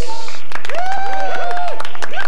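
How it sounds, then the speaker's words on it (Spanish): An audience on a children's TV programme applauds a little girl, the sister of a boy called Luis: loud, rapid clapping runs throughout while voices and melodic sound ring out on top. "Un aplauso para la hermana de Luis."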